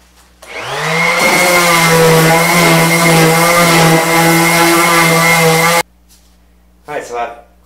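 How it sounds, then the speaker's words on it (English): Power sander starts up with a whine and runs loud and steady for several seconds sanding a wooden tabletop, then cuts off abruptly; a brief noise follows after a pause. "I'm going to go ahead and give the top a quick sanding"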